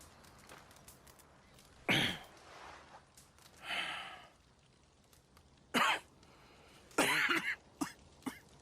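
A woman coughs in Red Dead Redemption 2, several separate harsh bursts spaced across the span with quiet room tone between them, close and fairly loud, with no talk over them.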